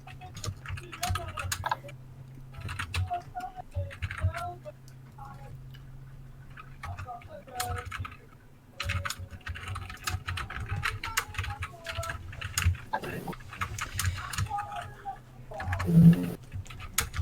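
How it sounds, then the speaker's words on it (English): Keyboard typing clicks in scattered quick bursts under and between talk during a Call of Cthulhu tabletop role-playing session, close and moderately loud. "I hear the typing"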